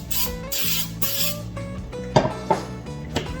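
Pam non-stick cooking spray hisses from a nearly empty can onto potatoes in a skillet in short, uneven bursts, followed by a few light clicks and knocks.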